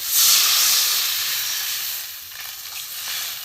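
Water poured into a hot pan during cooking of a fish roe bora curry, bursting into a loud close hiss and steam rush that slowly settles into a softer sizzle.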